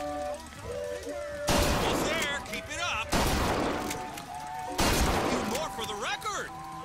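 Gunshots fired at fairground shooting-gallery targets in the game BioShock Infinite, three loud blasts a second or two apart with ringing tails, each followed by a chiming target sound.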